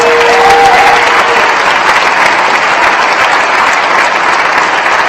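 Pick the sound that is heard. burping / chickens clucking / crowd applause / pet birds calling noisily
crowd applause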